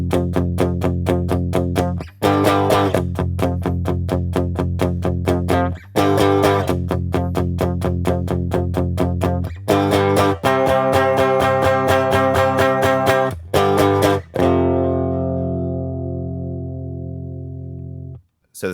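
An electric guitar chugs distorted power chords in steady repeated strums with brief gaps between the changes. The last chord rings out and fades.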